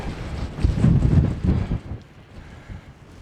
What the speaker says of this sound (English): It is getting quite breezy.